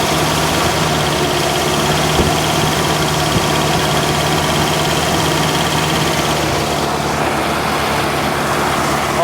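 An abandoned old Ford engine runs after 48 years in the desert, a loud, constant rough idle with a steady low drone and faint knocking, no voices.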